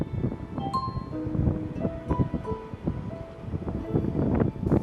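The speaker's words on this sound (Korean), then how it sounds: "이 도시에선 이 바람 소리가 곧 돈이 들어오는 소리랍니다." Wind rushing and gusting outdoors, with rustling and a few faint tonal whistles mixed in, steady and moderately loud throughout.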